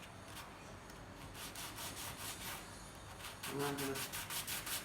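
Rhythmic rubbing strokes of small pieces scraped back and forth on a tabletop to roughen their surfaces, steady sanding-like friction that grows louder and coarser toward the end, with no talking.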